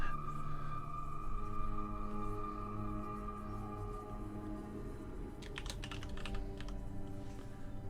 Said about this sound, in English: just typing in the version changes